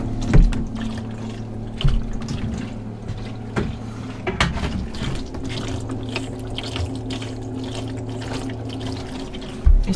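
Water runs and gurgles through the plumbing of an old narrowboat into the boiler, a steady low rushing hum with occasional knocks and clunks, cutting in and out.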